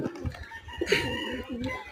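Pigeons coo nearby in soft, throaty bursts at a small pigeon farm, with some voices underneath.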